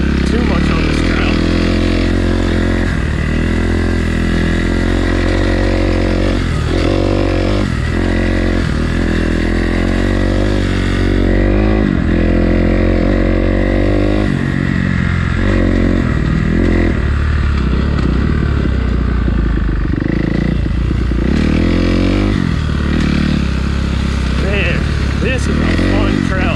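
Off-road motorcycle riding in second gear along a tight, rutted singletrack trail, with a loud continuous engine drone that rises and falls with throttle changes, close to the rider throughout.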